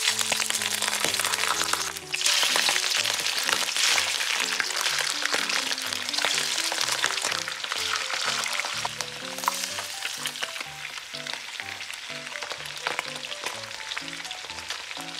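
Striped bass frying in oil in a wok over medium heat, a loud, steady crackling sizzle with scattered pops that runs throughout, with faint talk partly beneath it.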